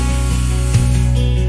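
Steady hissing spray from a handheld paint sprayer, a continuous loud airy rush with a low motor hum beneath it and a brief bump near the middle.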